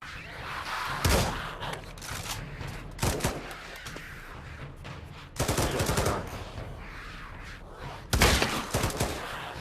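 Gunfire in the VR zombie shooter Pavlov Zombies: several loud, close bursts of rapid automatic fire separated by quieter stretches, with faint voices in between.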